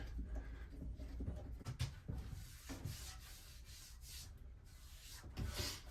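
Wood being sanded by hand or with a sander on the second side of a workpiece during a woodworking job, a steady close scratching rub with uneven strokes throughout.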